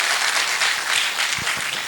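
An audience at a talk or reading in Marathi claps together, a dense and fairly loud burst of applause that lasts the whole short moment without any voices.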